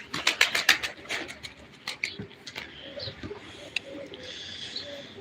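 Pigeons coo softly at close range alongside sharp clicks and flutters, with a voice calling intermittently over the birds.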